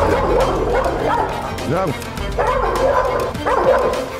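A large Cane Corso barks in a short series of deep, close woofs and yips mixed with whimpers, while a person speaks commands over the noise.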